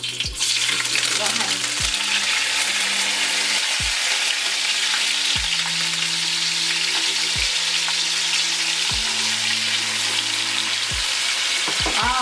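Vegetables for cabbage and saltfish hitting hot oil in a pan, a loud continuous sizzle with repeated stirring scrapes, while people talk briefly over the frying.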